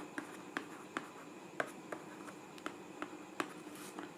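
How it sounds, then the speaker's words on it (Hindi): A pen writes an answer on paper in a series of light, irregular scratches and taps spread over about four seconds, close and fairly quiet, with no voices. "सबसे पहले आंसर लिखने के लिए यहाँ पर उत्तर लिखेंगे"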